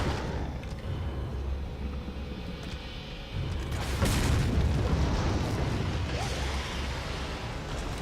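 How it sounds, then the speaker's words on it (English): A rocket launcher blast from Resident Evil 4 booms out at mid-distance, a heavy low explosion swelling around the midpoint and rumbling on with debris and ambient game noise afterward. "Maybe I will just rocket launcher him."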